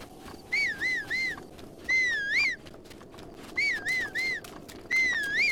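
A whistled tune in a Zelda game, repeated in short rising-and-falling phrases: three quick notes, then a longer sweeping note, played twice over clear ambient background.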